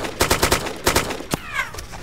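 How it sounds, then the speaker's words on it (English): Rapid bursts of gunfire in the survival game Wasteland Chernarus, loud and close, several quick shots in clusters followed by a single crack, ending in a fading whine. "Oh, shots from the left. Up in the tree line."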